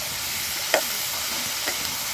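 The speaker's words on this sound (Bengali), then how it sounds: "ভালো করে নাড়তে হবে গাইস, ভালো করে ভাজা করতে হবে।" Vegetable fried rice is stirred and fried in a pan, giving a steady close sizzle broken by two short scraping strokes of the spatula, with no voices.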